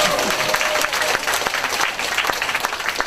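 Steady applause from a seminar audience at a cancer-themed talk, dense clapping holding at an even level for about three seconds with no voices over it.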